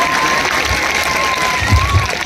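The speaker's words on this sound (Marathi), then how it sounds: "आवडलं तर टाळ्या वाजवा जरा" An audience at a live stage program in Safale, Palghar claps in a brief, dense burst of applause with crowd noise mixed in.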